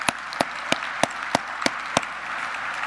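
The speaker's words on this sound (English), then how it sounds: "Let's give him a round of applause." Evenly spaced, sharp handclaps ring out about three per second at a veterans dinner, a sparse clapping over a soft room hum.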